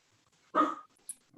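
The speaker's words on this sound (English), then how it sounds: "Apologies for my dog." A single short dog bark rings out nearby during a council meeting, followed by a faint small yip, otherwise quiet.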